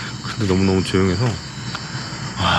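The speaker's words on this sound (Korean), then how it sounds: "귀뚜라미 소리랑 풀벌레 소리들이 진짜 많이 들려요" Crickets and other insects chirp in a continuous high, thin trill outdoors near a cenote. The sound stays quiet and even beneath someone speaking close by.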